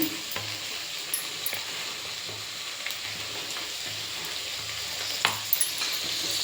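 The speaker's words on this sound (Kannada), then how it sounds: "ಈಗ ಕಾಳು ಹಾಕೋತೀನಿ ನಾನೇನು ಒಂದು ಬಾಕ್ಸಲ್ಲಿ ಇಟ್ಕೊಂಡಿದ್ನೋ ಅಷ್ಟು ಕಾಲನ್ನು ತೆಗೆದು ಹಾಕ್ತಾ ಇದ್ದೀನಿ" Field beans (avarekalu) hit a hot pan and sizzle steadily, a continuous frying hiss with light stirring clicks and a few sharper scrapes near the end.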